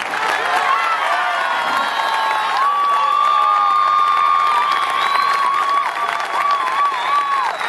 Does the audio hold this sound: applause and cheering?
yes